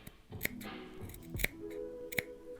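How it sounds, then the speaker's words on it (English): Scissors snip small triangles into a fabric seam allowance, giving three or four quick, faint metallic clicks with soft rustling of cloth between them and no talking. "I'm supposed to cut little triangles like this all over the seam allowance"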